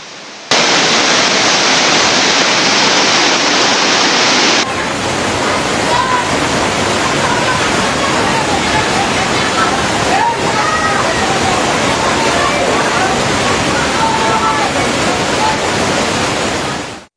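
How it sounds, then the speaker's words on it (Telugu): Heavy rain and rushing floodwater pour over waterlogged roads and low-lying areas in Hyderabad, a loud continuous hissing roar that shifts in tone after a few seconds and then holds steady throughout. "పలు జిల్లాల్లోనూ వర్షాలు జోరుగా కురుస్తున్నాయి."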